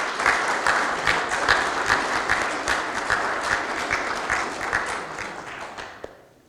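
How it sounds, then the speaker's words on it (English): An awards ceremony crowd claps for a student's first-place graphic arts win, with brisk, lively applause that gradually thins and fades toward the end. "Yes, round of applause."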